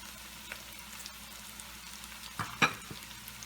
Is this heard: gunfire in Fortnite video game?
no